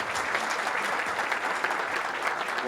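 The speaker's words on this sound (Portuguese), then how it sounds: "Palmas para ele." A conference audience gives a speaker a dense, sustained round of applause, many hands clapping evenly and loudly without letting up.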